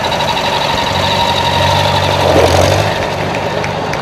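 An old 23-horsepower engine built between 1951 and 1954 runs steadily at idle, a low, even mechanical chug close by with no talking.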